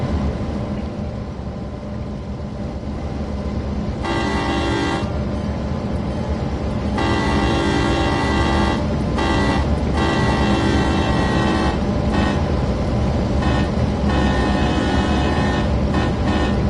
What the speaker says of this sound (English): I love the horn on this route and get a flyby and use the horn